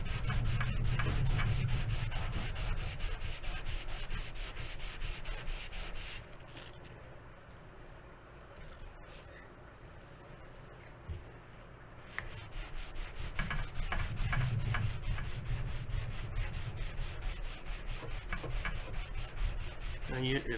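Sanding of a model glider's wing gives continuous close rubbing and scraping strokes, rhythmic and fairly faint, softening to a lighter rasp midway before the stronger strokes resume.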